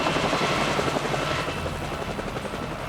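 A hijacked helicopter flies in a prison break, its rotor producing a loud, continuous thudding chop with a dense roar throughout the short stretch, no voices.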